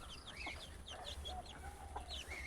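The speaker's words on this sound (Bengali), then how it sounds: "এই মুরগিটা বাচ্চা তুলেছে, অনেক কটাই বেশ বাচ্চা হয়েছে।" Hen that has hatched a brood of chicks clucks repeatedly at a backyard homestead, soft rhythmic clucks over steady low background hum, close by with no talking.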